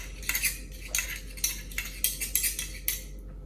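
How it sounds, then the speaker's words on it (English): A metal spoon scraping sticky molasses into a bowl, a rapid series of bright clinks and scrapes against the rim, close up, over a low steady hum with no voices. "That's the thing about molasses. Got to get that off the spoon."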